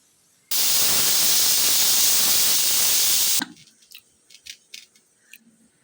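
A pressure cooker holding beef and potatoes vents steam in a loud, steady hiss that lasts about three seconds, then stops abruptly, leaving a few faint clicks and rattles.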